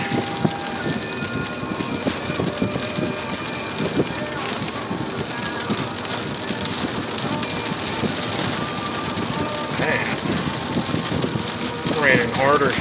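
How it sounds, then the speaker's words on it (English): Heavy rain pounds a truck driving through a severe thunderstorm in Van Buren County, Michigan, a loud dense roar of spray and drumming on the cab, with light wind and occasional faint rumbles, and no clear talk. "Raining harder here than it is in Breedsville."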